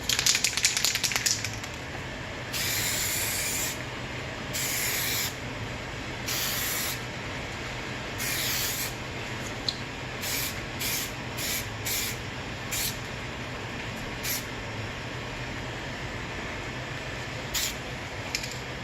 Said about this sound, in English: you just shake the can and spray